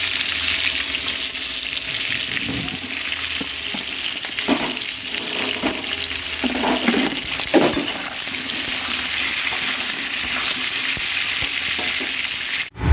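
Olive pickle cooking in a pan gives a steady close sizzle with bursts of stirring and scraping, plus some watery bubbling, loud and continuous with no talk.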